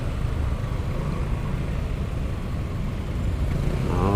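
Road traffic heard from a motorcycle, a dense, steady rumble of engines and wind close by with no clear breaks, rising slightly toward the end.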